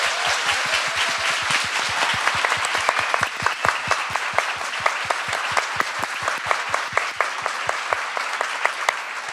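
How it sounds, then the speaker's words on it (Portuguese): At a women entrepreneurs' forum, the audience claps in a loud, steady rhythm, strong sharp beats in unison over a wash of scattered applause, continuing for several seconds. "Adorei as palmas da plateia,"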